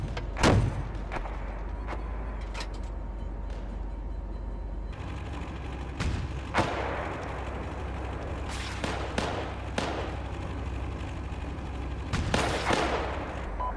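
Artillery fire and gunfire in a tactical tank battle in the game SB Pro PE: scattered sharp shots and blasts over a steady low rumble, with several loud reports clustered near the start, middle and end.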